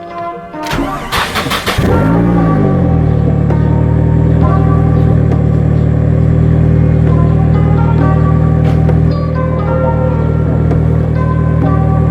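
A car engine cranks and catches, then settles into a steady, loud idle close by while vehicles are moved, with a rising rev right after starting; no talking.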